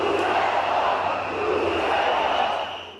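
A large crowd of protesters on a main avenue in Georgia boos and shouts at riot police, a loud, dense wall of voices holding steady before easing off at the end.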